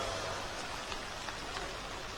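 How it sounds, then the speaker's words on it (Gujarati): Rain falls over a city street in Ahmedabad, a faint even hiss of drops on wet surfaces, steady and unbroken with no voices. "જે પ્રમાણે વરસાદ વરસી રહ્યો છે"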